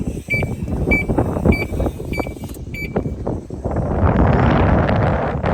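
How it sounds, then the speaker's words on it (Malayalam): Several sharp electronic beeps sound over a rough rumble, then strong, cold mountain wind at Heaven's Gate near Sapa, Vietnam, buffets the microphone with a loud, steady roar. "ഭയങ്കര കാറ്റാണ് കേട്ടോ"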